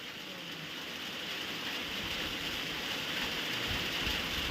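Heavy storm rain pours steadily at a moderate distance, a continuous hissing wash that swells slightly toward the end, with no voices heard.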